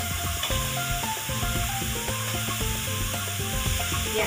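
Potatoes, cauliflower and other vegetables hit the pan for a mixed-vegetable khichdi, giving a continuous close sizzle and frying hiss under steady music.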